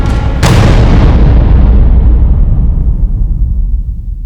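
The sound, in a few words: explosion blast in a TV crime drama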